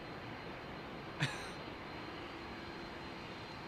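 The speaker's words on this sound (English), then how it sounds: "I can't talk over engine sounds." Aircraft jet engines at London Heathrow Airport near runway 27R give a steady, even broadband roar throughout, moderately distant, broken once early on by a brief sharp cough-like burst close to the microphone.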